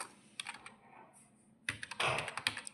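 Keys clatter on a computer keyboard while data is entered in Tally ERP 9 accounting software, quiet scattered taps followed by a denser, louder burst of fast typing.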